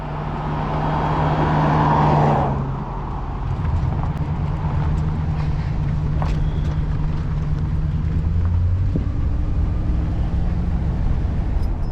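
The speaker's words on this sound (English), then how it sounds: "Oh no, here comes a car." A car passes on a rural road beside woods, a broad rising and fading engine and tyre rumble that peaks early and then settles into a steady low drone, with no talking.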